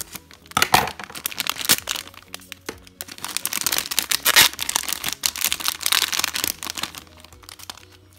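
Crinkly plastic rustling and crackling as scissors cut open a plastic toy packet, with a few sharp snips and tearing sounds, close up and fairly loud, with no talking.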